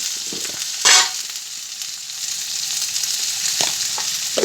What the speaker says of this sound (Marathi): तेलामध्ये चांगलं भाजून घ्यायचा फ्लावर